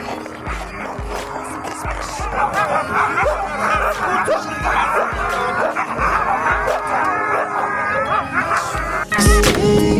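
Many sled dogs bark and yip excitedly in a noisy chorus on a frozen river, with some howling and whimpering, close and continuous, and a voice speaking faintly underneath.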